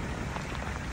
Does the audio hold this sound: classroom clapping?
no